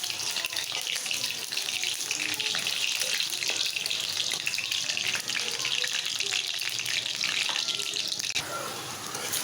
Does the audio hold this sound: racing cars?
no